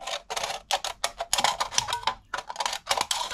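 Scissors snip an aluminium soda can straight down the middle, giving a close, rapid run of sharp metallic clicks and crinkles in uneven bursts.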